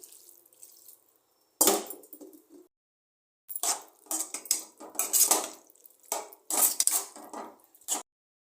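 Water splashes into a metal cooking pot holding potatoes for a puri masala, with clattering pot and utensil knocks in short bursts between quiet pauses, fairly soft and close.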